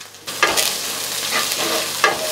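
Salted onions sautéing in a pan make a bright, close sizzle, with two or three bursts of stirring that stir the crackle up, and no speech.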